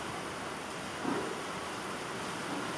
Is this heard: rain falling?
yes